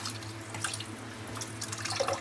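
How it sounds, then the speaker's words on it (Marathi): Cooking water drains out of boiled rice for fried rice, a quiet steady trickle and patter of running water with a few faint drips. "हे पाणी असं चांगल्यापैकी गाळून जायचं"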